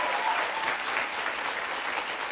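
Steady applause from a lecture audience, dense and even throughout with no voices over it.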